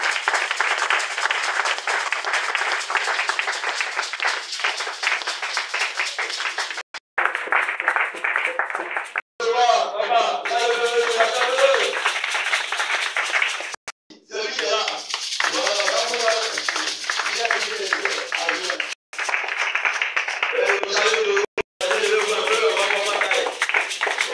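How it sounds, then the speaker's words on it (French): A church congregation cheers and applauds loudly, with sustained dense clapping that runs through most of the stretch in several bursts separated by brief breaks, while a voice speaks over it. "Le peuple acclame très fort."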